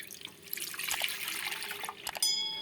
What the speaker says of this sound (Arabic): في بولة هنحط نص كيلو لبن حليب